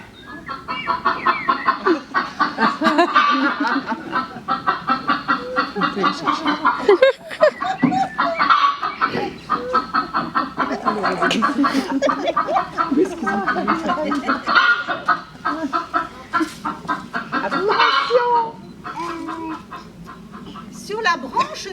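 A rooster crows and clucks repeatedly in busy, overlapping bursts, loud and close, with other fowl calls filling the background throughout.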